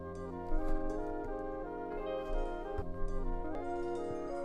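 A looped, chopped folk music sample plays alone, with sustained tonal chords and a steady low rhythm, warm and moderately loud, with no voices.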